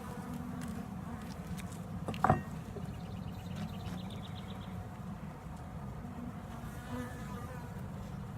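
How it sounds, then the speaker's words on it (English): Honeybees buzz around an open top-bar beehive during a hive inspection, a steady low drone throughout with a few individual bees passing close by, fairly quiet. "got a couple of them buzzing me a little bit today."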